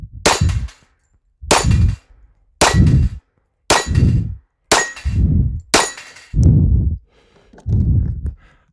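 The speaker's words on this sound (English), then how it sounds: "Get to watch me practice putting up plates." Steel shooting plates being set up, sounding as a series of about eight sharp metallic clangs at roughly one-second intervals, each ringing briefly with no talk.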